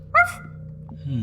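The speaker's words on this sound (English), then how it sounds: "It's a dog." A Boston Terrier in the Dream Daddy video game gives a single short, sharp bark, followed by a softer whimpering yip, over a low background hum.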